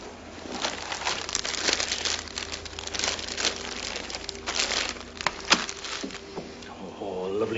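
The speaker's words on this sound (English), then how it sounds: "It's in that plastic bag there." A plastic bag is handled and crinkled in an office, producing irregular crackling rustles close by, with faint speech in the background.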